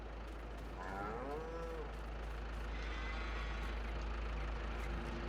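In Farming Simulator 22, a cow gives a single drawn-out moo over a steady low rumble of a vehicle engine, and the whole scene stays quiet and distant.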